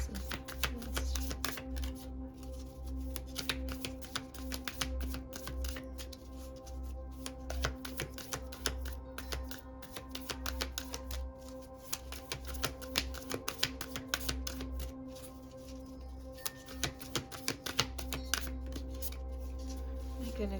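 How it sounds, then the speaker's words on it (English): Thick cardstock tarot cards being shuffled by hand, a steady run of dense riffling and slapping strokes close up across the whole stretch, with no voices. "these are harder to shuffle just because they're a thicker cardstock"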